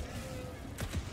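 Two quick, muffled gunshots go off in quiet succession in Helldivers 2 against a low background rumble.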